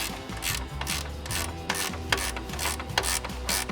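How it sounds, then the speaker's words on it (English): A ratchet wrench tightens fan shroud bolts, giving a steady run of close, rapid clicking strokes with brief pauses between pulls, loud and continuous throughout. "And now I can tighten all these bolts"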